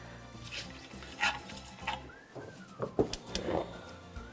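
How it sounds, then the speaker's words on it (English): Garlic sautéing in a pan in a healthy teaching kitchen gives a low, steady sizzle, broken by scattered clicks and scrapes of stirring utensils against the cookware, heard close with no talk. "we're going to let this cook for about a minute until the garlic starts to become a little bit more fragrant"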